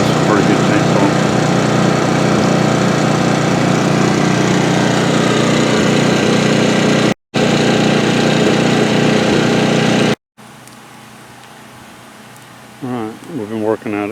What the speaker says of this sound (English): This is a pretty good chainsaw.